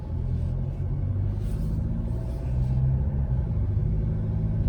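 A low, steady engine rumble from a 2021 Chevrolet Colorado diesel pickup with aFe parts and an Edge CTS3 on the move, loud and close, with a slight rise in intensity partway through.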